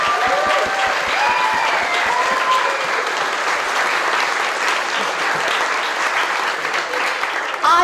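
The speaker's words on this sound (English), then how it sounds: "a massive, massive round of applause for everybody that's been involved" An audience applauds after an evening showcase performance, a loud, dense and steady wash of clapping that runs the whole time. Faint voices sit beneath it.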